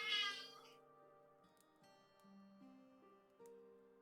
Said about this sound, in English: you wanted to come up and meow directly into the microphone